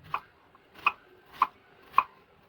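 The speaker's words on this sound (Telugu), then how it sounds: "ఇప్పుడు అట్టికాయలు బద్దలు కింద చేసుకోవాలి" Four evenly spaced knife chops on a cutting board, crisp and close, with quiet pauses between each stroke.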